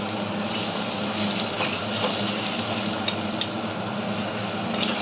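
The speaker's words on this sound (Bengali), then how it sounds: "অল্প করে জল দিলাম, মশলা বসে যাচ্ছে তাই জলটা দিয়ে দিলাম।" A little water goes into turmeric and spices frying in a pan for rohu fish curry. A continuous close sizzle and gushing hiss holds steady throughout, with faint scraping ticks scattered through it.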